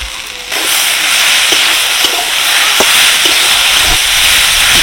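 An egg-potato curry with ground spices is stirred and sautéed in a pan. A loud, dense sizzling hiss bursts in after a quiet half-second and holds steady, with faint scraping ticks from the spatula.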